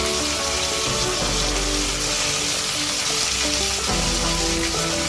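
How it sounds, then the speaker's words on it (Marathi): Ivy gourd sautéing in a pan with onion, green chilli, tomato, salt, asafoetida and turmeric over a medium gas flame, giving a loud, continuous sizzle and hiss with faint stirring scrapes throughout. "आणि हिंग आणि हळद सगळं घालून घ्यायचं आणि छान परतून घ्यायचं"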